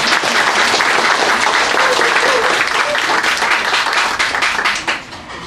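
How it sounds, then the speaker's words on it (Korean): Loud, sustained applause from a crowd at a Korean political gathering, dense clapping throughout before tapering off near the end. "다 우리 이종걸한테 박수 한번."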